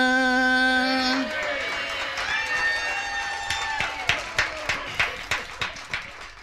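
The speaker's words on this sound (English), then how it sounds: "Y'all will clap for anything." Comedy club audience claps at a stand-up show. A sustained tone opens the clip, then scattered applause comes in and settles into a string of rhythmic, evenly spaced claps near the end.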